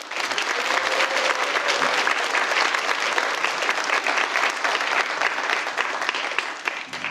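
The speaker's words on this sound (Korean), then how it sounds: "박수 좀 보내드려요." Audience at a nursing pledge ceremony applauding an honored guest, a dense, continuous wash of clapping from a large hall that stays strong throughout before easing slightly at the end.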